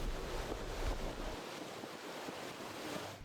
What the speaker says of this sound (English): Soon the winds picked up, blowing directly over the stern.